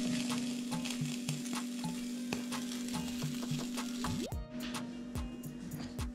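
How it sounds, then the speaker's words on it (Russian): Marinated food with garlic and onion in a sauce stewing in a pan on the stove, a steady quiet sizzle with soft stirring scrapes and small clicks, no talking. "А сразу включу плиту и буду начинать тушить."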